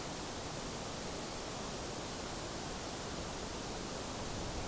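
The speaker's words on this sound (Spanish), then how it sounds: "El ruido café, ahí sí ya predominan las frecuencias medias graves y graves." A synthesized brown noise test signal plays as a steady, unbroken wash of hiss and rumble, constant in level and heard alone for the whole stretch.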